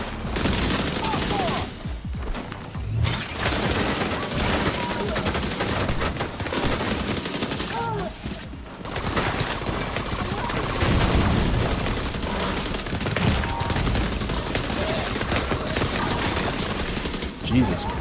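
Sustained bursts of automatic assault turret gunfire in a video game, loud and dense rattling fire with brief pauses, continuing almost nonstop with a voice occasionally heard beneath.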